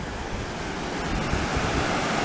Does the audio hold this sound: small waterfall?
yes